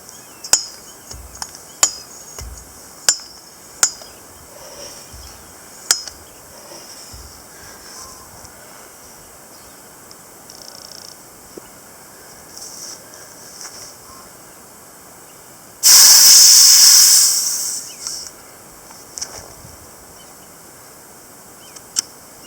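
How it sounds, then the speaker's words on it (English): A Hill hand pump is worked to fill an air gun, producing a string of sharp rhythmic clanks and pumping strokes, then a loud hissing burst of air near the end. "Fill this up with the Hill hand pump"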